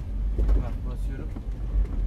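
A Ford Transit van engine revving under acceleration, a deep continuous rumble heard close from inside while a voice talks over it.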